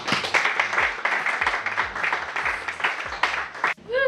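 A crowd applauding steadily, dense clapping that holds for several seconds before cutting off abruptly, with a brief voice at the very end.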